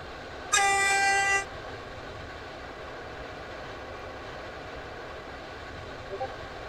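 A Class 730 passenger train running on the line to Newry: a brief bright electronic tone, then a steady, low interior rumble.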